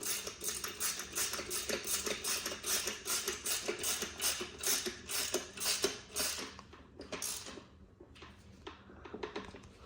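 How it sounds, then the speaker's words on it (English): A bolt being run down quickly on a homemade engine stand, likely with a power driver, gives a rapid train of close metallic rattling bursts that thin out into sparser clicks toward the end. "what we'll do is run this bolt down on the Fast. side"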